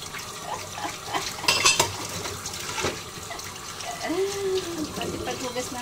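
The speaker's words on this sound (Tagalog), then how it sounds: "Hugas na ng plato." Plates and cutlery clink against each other in running water while dishes are washed at a sink, with light scattered knocks and splashes at a steady close level and some background speech.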